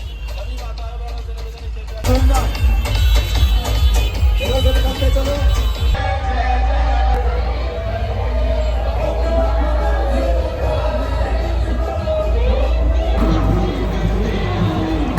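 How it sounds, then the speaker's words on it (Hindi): A dense pilgrim crowd chants praises of the goddess during a flag procession on the road to the Maa Sharda temple in Jabalpur, a loud continuous swell of massed voices with rhythmic cries over traffic rumble. "झंडों के जुलूस के साथ साथ माता के जयकारे सुनाई दे रहे हैं"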